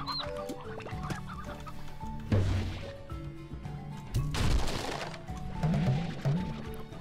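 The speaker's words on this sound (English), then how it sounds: "Oh, you're a stony hen?" A stony hen in the Slime Rancher video game clucks in bursts, with a few sharp thwacking impacts and game noises mixed in, loud and close.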